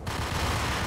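Gunfire in the Max Payne video game, a loud, dense burst of shots filling a brief moment with no pause between them.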